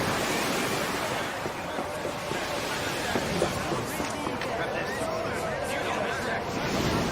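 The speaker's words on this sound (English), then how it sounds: "Sergeant, where the devil's all this water come from?" Rushing flood water from a canal in a sci-fi radio drama set on Mars, a dense continuous roar like surf with wind noise, loud and unbroken.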